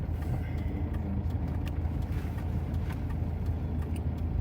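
A car engine idles and rumbles while the vehicle reverses and maneuvers in a crowded spot, a steady mid-level drone with scattered clicks and background bustle.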